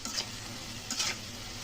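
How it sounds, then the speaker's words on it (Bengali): Ash gourd frying with salt in a pan gives a faint, steady sizzle, with two short stirring scrapes near the start and around the middle; no one speaks. "লবণ দিয়ে ভালোভাবে আবার ভেজে নিব।"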